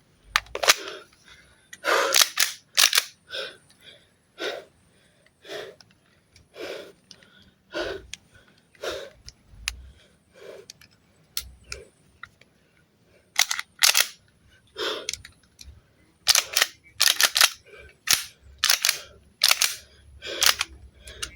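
Video game gunfire in sharp, loud bursts, quick clusters of shots separated by short pauses, repeating across the stretch with little else beneath.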